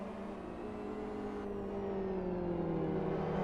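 A GT3 race car engine in a simulated SuperGT race at Blackwood gives a steady, deep, rasping drone with harmonic tones that slowly slide downward, holding even and continuous throughout.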